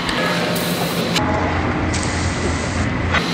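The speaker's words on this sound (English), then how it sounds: "It's a sort of cheap and cheerful way of spraying cows." Iodine spray hisses close by onto cows over a steady mechanical hum, with brief pauses and bursts as the spraying starts and stops.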